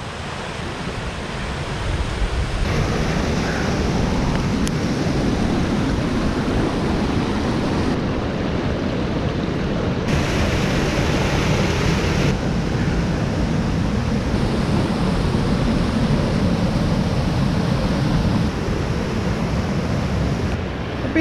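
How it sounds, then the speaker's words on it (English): Waves rolling onto a beach in South Wales under steady wind, a loud continuous roar of surf with wind buffeting the microphone throughout and no voices. "Beach."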